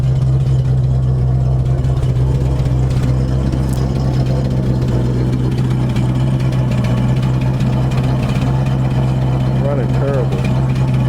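A 1973 Ford Torino Sport fastback, after sitting three years, idles with a steady low engine rumble throughout, loud and close, with voices talking over it.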